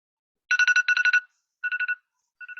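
A phone ringtone going off during an online training session: repeated bursts of a bright electronic ring in short pulsed groups, loud and clear, with a gap between each burst and no talking over it.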